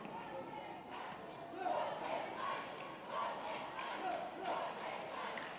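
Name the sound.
fans shouting and cheering at a football final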